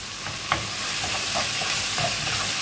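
Onion frying in homemade olive oil in a pan gives a steady, close sizzling hiss, broken by a few brief stirring scrapes and pops, with no talking.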